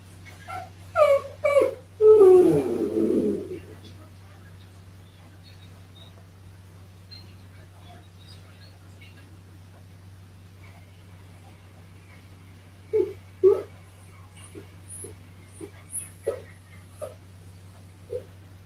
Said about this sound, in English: It's about a dog's reaction to a possible Bigfoot.